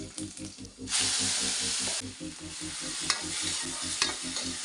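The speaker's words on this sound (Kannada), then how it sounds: "ಬೆಳ್ಳುಳ್ಳಿ, ಸ್ವಲ್ಪ ಎಣ್ಣೆ, ಉಪ್ಪು, ಖಾರ ಇಷ್ಟೇ ಹಾಕಿ ಕಾಳನ್ನ ಫ್ರೈ ಮಾಡ್ತೀನಿ" Sprouted legumes frying with garlic, oil, salt and chilli, with a loud steady sizzle and hiss rising as the pan heats and a low rhythmic hum beneath, plus occasional spoon scrapes, close up.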